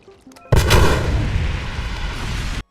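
A heavy blast goes off abruptly after a short lead-in, then a loud rumbling roar of explosions holds for about two seconds before cutting off, from planted bombs detonating in the video game Dying Light.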